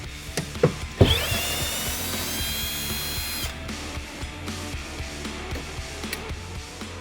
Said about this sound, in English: Now I get the screws out.